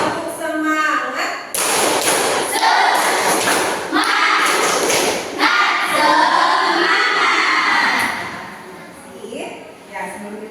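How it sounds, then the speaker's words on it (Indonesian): Schoolchildren in a classroom during an Indonesian science lesson clap a chanted rhythm, with loud bursts of hand claps and thumps mixed with shouting young voices, close and energetic, easing off near the end. "Tepuk 1, tepuk 2, tepuk 3, tepuk semangat."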